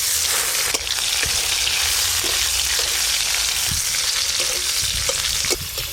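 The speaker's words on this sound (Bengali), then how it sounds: "টমেটোগুলো একটু ভাজা ভাজা হয়ে গেছে" Chopped tomato frying in mustard oil after a tempering of bay leaf, dried red chilli and five-spice: a loud, continuous close sizzle with occasional stirring scrapes and a few pops, with no voices.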